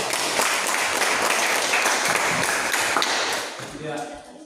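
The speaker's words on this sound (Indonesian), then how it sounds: "Tepuk tangan untuk kelompok" Dense, noisy clapping from a classroom of students for a presenting group, sustained and fairly loud, then dropping off toward the end.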